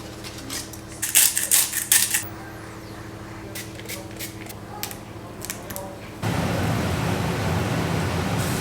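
A pan of teriyaki salmon fillets cooks on the stove with metallic clinks and clatter early on, then gives way to a steady loud sizzle.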